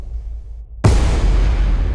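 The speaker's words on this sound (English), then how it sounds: "it's the perfect start to finish impact. It has everything you need. It has a strong thud, perfect trail" After a low rumble, a sudden heavy boom hits with a deep thud, then a loud, sustained noisy tail rolls on.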